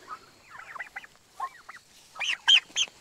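Several pasture-raised turkeys give short honking, gobbling calls in uneven bursts, louder toward the end, close by in a quiet outdoor setting.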